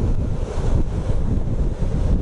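High ocean waves breaking on the Hokuriku coast of Japan, a continuous low roar of surf mixed with heavy wind buffeting from riding past on a Honda Gold Wing motorcycle.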